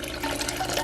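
Boiling water pouring from a cup onto Jello powder in a bowl, a steady close splashing liquid stream running for the whole brief moment.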